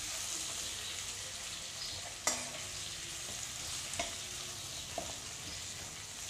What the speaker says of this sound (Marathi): बटाटे छान तेलात परतून घ्यायचे आहे